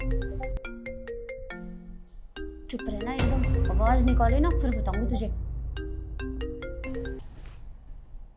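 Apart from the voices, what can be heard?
phone ringtone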